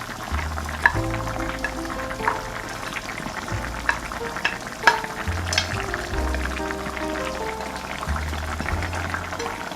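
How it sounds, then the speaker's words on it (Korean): Soft tofu stew with clams bubbling in a pot while a utensil stirs gently, with steady sizzling and simmering, scattered clinks and scrapes against the pot, and low hum from the stove underneath throughout. "이때가 타지 않도록 살살 이렇게 저어주고요"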